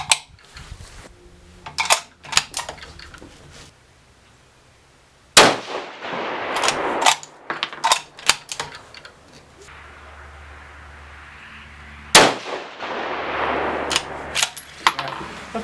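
A 6mm Creedmoor rifle fires at a 200-yard range during muzzle tuner testing, with two loud sharp reports several seconds apart, each followed by a lingering echo and scattered clanks of handling between shots.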